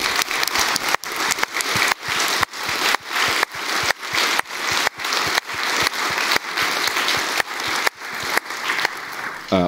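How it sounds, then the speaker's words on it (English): Audience clapping at a network operators' conference closing session, a sustained round of applause that pulses in a regular rhythm of short bursts for nearly ten seconds. "Give them a big round of applause."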